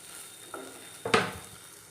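Cinnamon and cloves dropped into a hot pan for a chickpea masala curry, giving a short sizzling hiss with two quick bursts, close and fairly faint.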